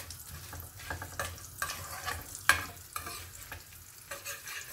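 Whole dry spices, including biryani flower, cardamom and dried red chilies, roast in a pan for a dhaba-style egg curry, with soft intermittent sizzling and scraping stirs, one sharper clack in the middle.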